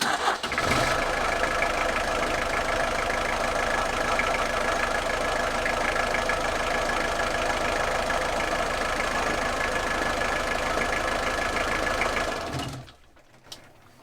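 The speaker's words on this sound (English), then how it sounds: "So we can at least reliably start the engine" An engine cranks and catches, then runs in a steady mid-pitched drone for several seconds before cutting off abruptly near the end.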